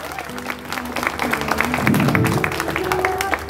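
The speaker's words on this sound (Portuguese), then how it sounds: "Pode bater palmas aí" Birthday party guests clapping at an indoor celebration, a scattered, moderately loud round of hand claps with individual claps standing out, under a hum of voices and some background music.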